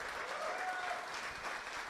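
A crowd at a Marvel Con finals event claps for the contestants, a steady wash of applause filling the whole short stretch at moderate distance.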